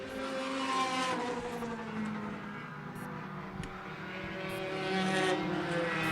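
Race cars roar around a short oval track in a Taxi Thunder event, a steady dense engine drone from a pack running close together, swelling slightly toward the end.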